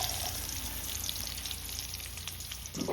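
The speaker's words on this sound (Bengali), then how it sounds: "সর্ষের তেল দিয়ে আলুগুলো ভেজে নেব।" Potatoes frying in mustard oil with a little salt, a continuous close sizzle and bubbling throughout, ending with a short clatter of stirring, no talk.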